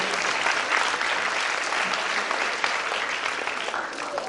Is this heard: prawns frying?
no